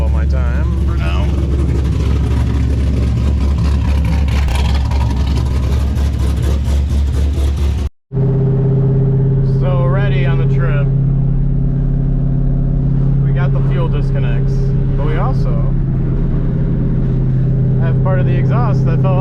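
A car engine with a loose exhaust that fell off while driving runs loudly throughout, a steady low rumble with a brief cutout partway through, then continuing with a rougher drone and whining overtones.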